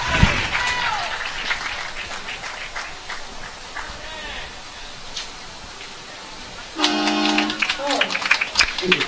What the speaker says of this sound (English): all the cheering from the Italians in the crowd